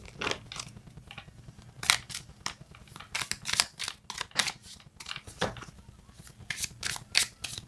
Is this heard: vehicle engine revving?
no